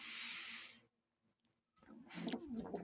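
Pet birds coo softly and close by in a pair of low, rounded bursts, following a brief hissy rustle and a short pause of near silence.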